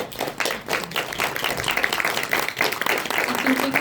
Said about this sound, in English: I think we can make this round of applause a little bit warmer for these amazing speakers